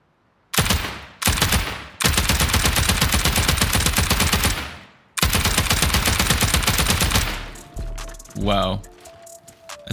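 Dense automatic gunfire during a video game base raid on a giant open-core pyramid, long sustained bursts of rapid shots with brief gaps, loud and close, ending with a short rising whine.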